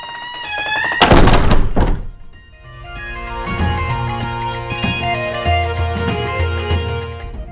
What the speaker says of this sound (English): he hefted the heavy door shut with a resounding clang